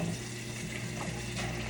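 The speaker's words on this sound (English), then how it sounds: "Give it a good little rinse out." A pot is rinsed under a running kitchen tap, giving a continuous close splashing, hissing flow of water over the metal that runs unbroken for the whole moment.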